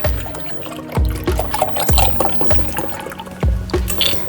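About 300 ml of milk poured into a half-litre jar, a steady liquid stream with repeated glugging splashes and small knocks about every half second, recorded close and without speech.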